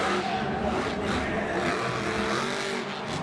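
The Monster Jam monster truck Mohawk Warrior runs over a row of cars at a Jacksonville stadium event, a loud, continuous engine roar mixed with crunching and arena noise.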